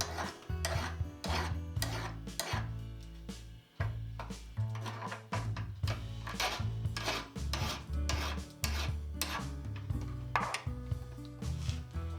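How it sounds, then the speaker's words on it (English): Rhythmic rasping strokes of a file scraping burrs off drilled metal on a windmill vane, repeated steadily at close range, with low humming tones underneath. "File off the burrs from drilling."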